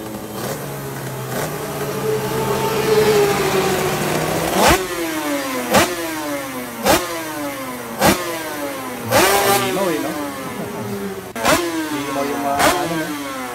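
Two-stroke big bike motorcycle revving hard several times in a row, each sharp rising blip falling back to a ragged idle, loud and close with no talk.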